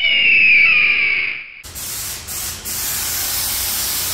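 Cleaner sprayed onto the engine bay hose and fuel filter housing of a 2023 Toyota SW4 during a service: a loud, steady close hiss for about a second and a half, then a quieter continuous spray wash.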